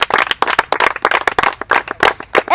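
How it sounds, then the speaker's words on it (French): Classroom applause for a pupil's correct answer at a children's event in the DR Congo, dense clapping from many hands close by, steady and uneven for a couple of seconds with no talk over it. "Est-ce qu'on peut l'applaudir?"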